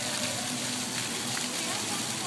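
A waterfall gives off a constant, broadband rushing roar on a winter evening, continuous and fairly loud, while people talk over it.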